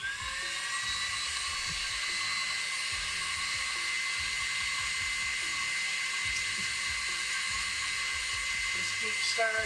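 Electric mixer whipping chiffon pumpkin pie filling in a home kitchen, a steady high-pitched motor whine running throughout with rattling low beater scrapes against the bowl.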